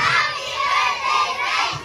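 A crowd of children at a ninth birthday party shouts together on command in a loud, sustained burst of mixed voices lasting a couple of seconds.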